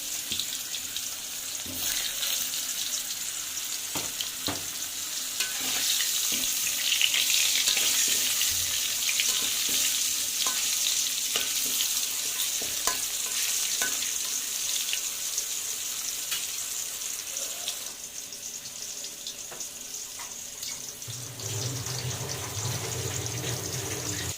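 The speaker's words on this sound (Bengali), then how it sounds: "লবণ আর হলুদ মাখিয়ে গরম তেলে দিয়ে দিচ্ছি, হালকা করে একটু ভেজে নেব।" Food coated in salt and turmeric frying in hot oil, giving a continuous moderate sizzle with light clinks and stirring, steady and alone, then a lower rushing sound toward the end.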